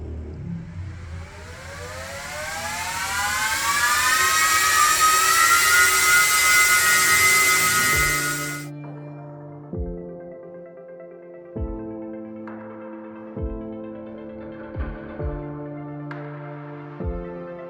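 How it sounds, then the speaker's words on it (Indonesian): A Gigabyte R133-C11 rack server with a Ryzen 7000 processor powers on. Its fans spin up into a loud, rising whine that holds for several seconds, then cuts off, followed by steady lower tones and short beeps. "Dan sekarang, mari kita nyalakan server ini."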